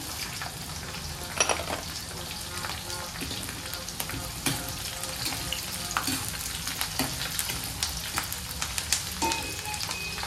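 Green chillies hit hot oil with garlic in a pan, a loud steady sizzle and crackle throughout with occasional sharp pops and stirring clatter.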